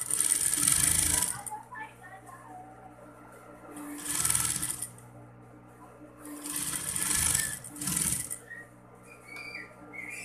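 An electric sewing machine stitching a Santo Niño garment runs in several close bursts of steady whirring, stopping and restarting in between, with a faint voice and background sound underneath.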